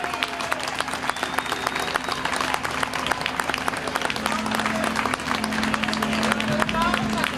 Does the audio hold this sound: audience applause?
yes